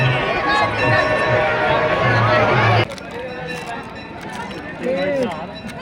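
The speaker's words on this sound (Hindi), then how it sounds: "बड़ी भीड़ है।" Crowd noise at the Kadi Bigha fair in Nalanda, Bihar, starts as a loud, thick babble of voices, then suddenly drops to a thinner murmur where a few nearby voices come through.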